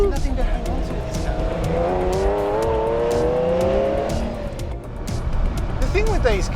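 A 1985 Lamborghini Countach 5000QV accelerating, its engine tone climbing in a rising whine over a loud, rough roar heard from inside the car, with someone talking over it.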